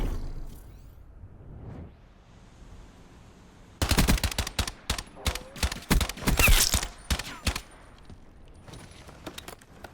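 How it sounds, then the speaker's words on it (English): Rapid automatic gunfire rings out in a competitive video game match between Boston Brigade and OMiT Brooklyn, starting after a quiet moment as dense bursts and single shots that then thin out toward the end. "Switch puts the shots in"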